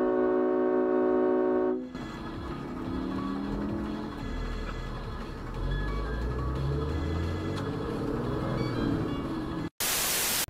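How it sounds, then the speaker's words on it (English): A loud train horn sounds a sustained tonal blast for about two seconds, followed by roaring road and vehicle noise with rumbling engines from a dashcam's view of traffic, ending in a sharp burst of static. "This train horn is loud enough"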